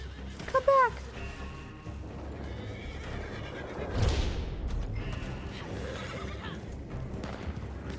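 A horse in the video game Red Dead Online gives a loud, close whinny near the start. Hoof clip-clop and a steady rumble of game ambience follow, with no talk.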